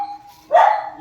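A stray dog being fed biscuits gives a single sharp, loud bark close by, after a brief quieter lead-in.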